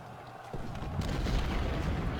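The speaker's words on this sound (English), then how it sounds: "let's place those two in line so we can start shooting on Sill" Battlefield gunfire from the Civil War strategy game Ultimate General: Civil War, a dense rumbling roar of massed musket volleys and booms that swells after a quiet start and continues loud and steady.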